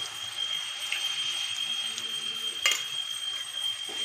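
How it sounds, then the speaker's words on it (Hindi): Tomato, onion and spices frying with curd in a pan for palak paneer, a steady soft sizzle with occasional light stirring clinks, close and fairly quiet. "टमाटर और प्याज के साथ मसालों को भी अच्छे से हम भून लेते हैं"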